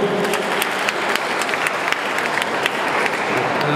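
A crowd at a boxing weigh-in for Clash Of Champion 3 bursts into loud, continuous applause, a dense unbroken clatter of hands for a short stretch with no voices standing out.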